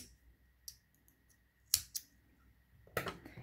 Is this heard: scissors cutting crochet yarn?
yes